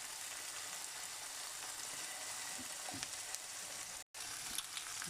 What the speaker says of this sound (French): Il faut bien cuire la viande.